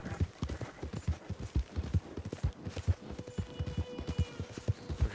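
Horse hooves clip-clop in a steady, quick trotting rhythm, close and clear, in the video game Red Dead Redemption 2, with no talking.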